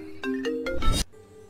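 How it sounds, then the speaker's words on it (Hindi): An iPhone-style ringtone plays from a phone, a short rising melodic chime of several bright notes ending in a brief burst, clear and close with no talk. "रिंगटोन भी आईफोन की"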